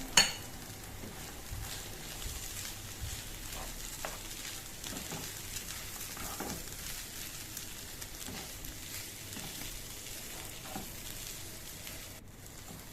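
Grated potato and sweet potato fry in ghee with a steady broadband sizzle, broken by occasional soft scrapes and stirs from a utensil; no voices.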